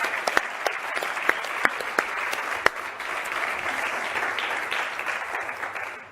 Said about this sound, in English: can you give a big round of applause and a big thank you to our drivers and to Philippe